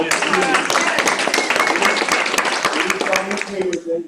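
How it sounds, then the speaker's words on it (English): Applause from the audience at a real estate team meeting, sharp, distinct claps from a modest group, close and fairly loud, with people talking over it, tapering off at the end. "That's a round of applause."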